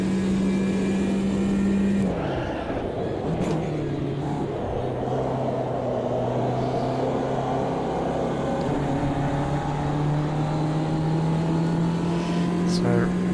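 A racing car engine in the sim racing game Automobilista 2 drones loudly and steadily, its pitch dropping on a downshift into a slow hairpin and then climbing again, with a voice speaking over it.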